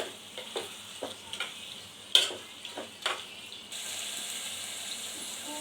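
Chicken frying in a pan for pulao, with a soft steady sizzle under intermittent sharp clatters of a spoon stirring, the frying hiss growing fuller toward the end.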